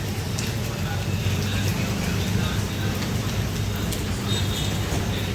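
Steady rain falls around a roadside tea stop in Naroda during a downpour, a continuous broadband hiss over a low rumble that may be passing traffic.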